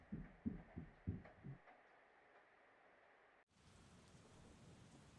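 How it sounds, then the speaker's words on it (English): In the video game Persona 4 Golden, after a few low thumps, the sound cuts sharply to a soft, steady hiss of rain falling outside that continues quietly to the end. "You can hear it raining outside."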